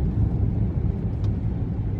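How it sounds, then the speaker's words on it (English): Steady low rumble of a car interior while driving, continuous and fairly loud with a broadband road hum throughout, and a voice faintly present underneath. "I'm driving up to my parents' house right now"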